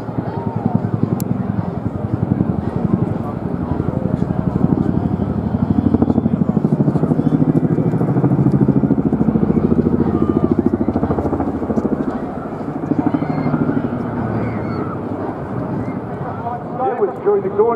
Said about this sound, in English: As one of the largest battlefield helicopters in the world, these manoeuvres showcase the Chinook's excellent manoeuvrability